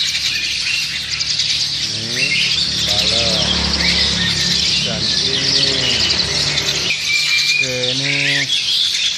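Bali myna birds in an Indonesian bird shop giving a string of harsh squawks and rising whistled calls over a dense chorus of other caged birds chirping, with someone talking briefly.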